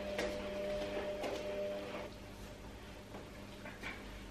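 A washing machine whirs behind a shut door as a constant muffled hum, dropping slightly in level partway through, with a few faint knocks.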